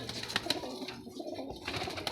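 Ferozpuri pigeons murmur with low coos close at hand, broken by a few sharp clicks and light taps, while the birds stay fairly quiet and nobody speaks.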